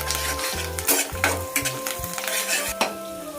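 Curry leaves, garlic and diamond-cut green chillies sizzle and crackle in hot oil while a utensil stirs and scrapes the pan in quick rhythmic strokes with metallic clinks, close and busy.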